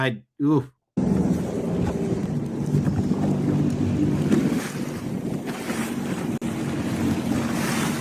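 A Sea-Doo Fish Pro Trophy watercraft rides across the ocean among a bait ball with sharks feeding nearby, giving a loud, steady rush of engine, wind and splashing water after two brief bursts of sound at the start.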